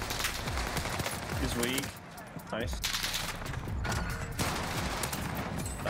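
Near-constant gunfire in Warzone Pacific, with rapid automatic bursts and overlapping shots from several weapons, loud and dense throughout while players talk over it.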